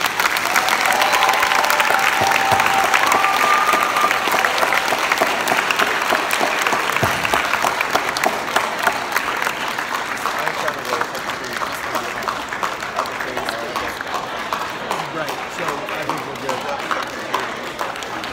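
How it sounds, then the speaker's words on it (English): Sustained applause from a large crowd, dense clapping that stays loud and steady throughout with a faint murmur of voices underneath. "a big round of applause for Mr. Haygood."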